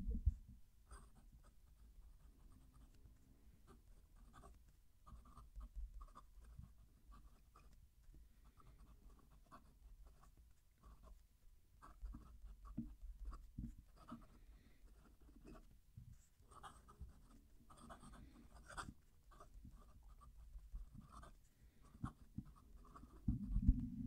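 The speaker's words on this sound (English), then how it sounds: "Let's move the mic and write a sentence." A Platinum 3776 Century fountain pen with a hard nib scratches softly across textured uncoated paper in irregular strokes and pauses, faint and close against a low background rumble.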